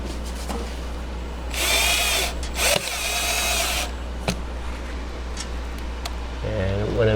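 A power drill spins out screws on a 1996 Club Car DS golf cart, with loud whirring bursts, brief pauses between them and steady background noise.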